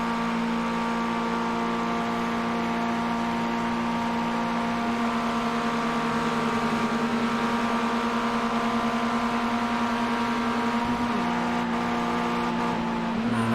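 A Pontiac Solstice race car engine in iRacing holds a steady, loud drone with the throttle feathered, its pitch dipping and recovering slightly while it runs alone.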